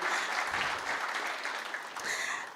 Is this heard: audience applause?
yes